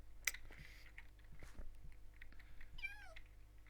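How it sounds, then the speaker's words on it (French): A house cat gives a faint, drawn-out meow against steady computer hum and light keyboard clicks, with a short sharp click early on. "Oui, oui, ça sert à rien de miauler."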